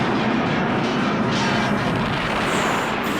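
An explosion in the 1983 film Superman III, a loud broad roar that keeps rumbling evenly throughout, with no clear separate blast.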